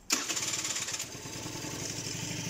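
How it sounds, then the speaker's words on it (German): Scooter engine firing up at once after the ignition key is turned, a sharp catch followed by a fast, even, putting idle that runs steadily close by. "Sofort ist der Motor da."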